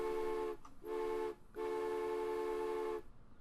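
Train whistle in the Transport Fever railway game, three sustained tonal blasts, a short one, a brief one, then a long held one, loud and clear with short gaps between, no voices.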